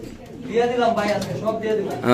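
A black Mundian pigeon coos in soft, throaty rolling phrases, close up, with a voice faintly in the background.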